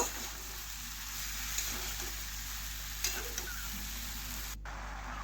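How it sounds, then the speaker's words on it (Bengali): Bottle gourd pieces stirred in a wok while a vegetarian dish cooks, with a steady sizzling hiss of frying and occasional faint scrapes of the spoon against the pan, continuous and moderately quiet with no talking. "সমস্ত লাউটা দেওয়া হয়ে নাড়াচাড়া করে নিয়েছি"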